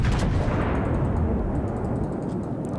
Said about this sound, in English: Oh, that salvo actually looks pretty good, Ross.